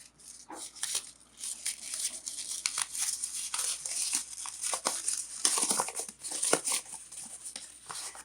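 Sheet of drawing paper crumpled and crinkled repeatedly by hand to distress it, a dense, continuous crackling rustle close up with brief louder crunches throughout.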